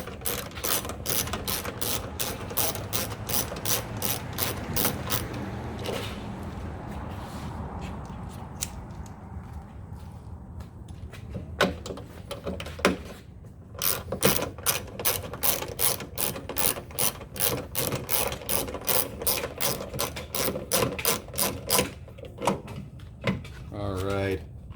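A ratchet wrench fitted with an 8mm socket on a 1/2 inch drive turns a bolt, giving long runs of sharp, rapid clicking. A brief lull with softer handling noise falls partway through before the quick ratcheting resumes close up.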